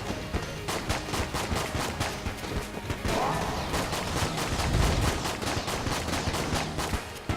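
Rapid, loud gunfire from the twin-stick shooter Enter the Gungeon, a dense stream of repeated shots with no pause, plus game effects mixed in.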